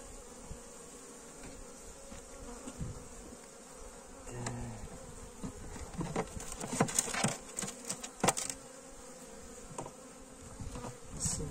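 Honey bees humming and buzzing around an opened hive during an early spring inspection after overwintering, a soft continuous drone with sharper close passes and light rustling.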